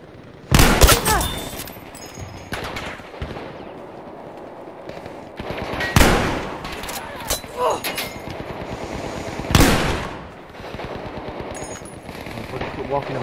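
Automatic gunfire in Battlefield V multiplayer combat: several loud bursts near 0.5, 6 and 9.5 seconds stand out over a continuous din of distant battle noise, with voices talking in between.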